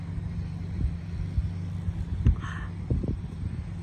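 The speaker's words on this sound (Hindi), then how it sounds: "आज यहाँ पे ये ट्रैक्टर चला रहे हैं." A large air-conditioned tractor works a wheat farm during seed planting, its engine a steady low rumble with faint knocks and wind noise, heard from close by without talk.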